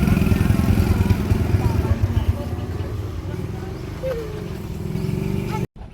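A motorcycle riding along a village road in rural Faisalabad, Pakistan, its engine chugging loud and close with a steady rhythmic pulse before cutting off abruptly near the end.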